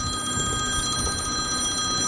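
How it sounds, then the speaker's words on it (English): A telephone rings steadily with an incoming call, a continuous electronic bell tone holding for the whole short stretch at moderate loudness over faint room noise. "I got a phone call"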